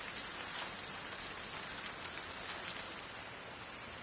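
Steady rain in the video game Fatal Frame III, a dense, even hiss of falling drops on surfaces that continues without pause, with no voices over it.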